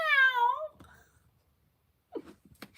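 A person's voice imitates a cat's meow, a drawn-out falling wail sounded alone and close, followed after a short pause by brief quiet vocal noises.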